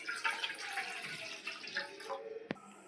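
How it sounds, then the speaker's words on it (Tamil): Water poured into a cooking pot for sago, a steady splashing stream with a few clinks of the vessel and a sharp knock near the end. "3 கப் அளவு தண்ணி ஊற்றிக்கலாம்."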